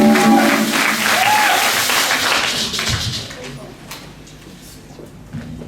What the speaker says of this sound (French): je vais appeler notre sœur Gloria sous vos acclamations